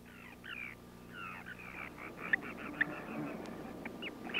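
Ducks quack in a steady, moderately distant chorus of short nasal calls, like waterfowl on swamps and lagoons, with a faint hum underneath.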